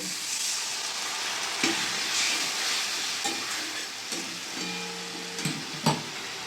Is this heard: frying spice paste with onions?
yes